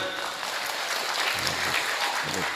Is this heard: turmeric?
no